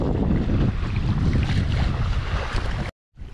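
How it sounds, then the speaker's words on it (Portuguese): Strong wind buffeting the microphone on a river during a fishing trip, a loud, rough, continuous rush that cuts out abruptly near the end before returning briefly, with no talking. "É muito vento, pessoal. Isso dificulta muito a pescaria."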